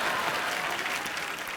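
A studio audience at a comedy talk show claps steadily and thickly, a loud continuous wash of applause that tapers a little toward the end.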